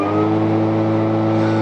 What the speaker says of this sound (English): That sounds like a commercial mower deck, like you'd expect from any other mower.